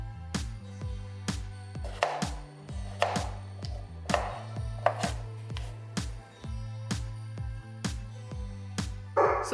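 Potatoes sliced with a knife on a cutting board in a home kitchen, a steady run of sharp, close knocks, about two per second, with no talking.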